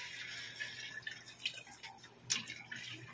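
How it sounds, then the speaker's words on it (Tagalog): Faint running water poured into a cooking pot of macaroni soup trickles and splashes steadily, with a few small drips and clinks, quiet and close by. "lalagyan na po natin siya ng water"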